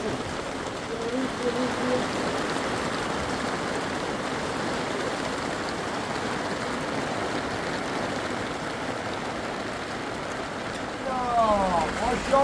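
Steady rain pouring down during a winter storm at a nomadic family's camp, a continuous dense hiss with no breaks, and a voice briefly heard near the end.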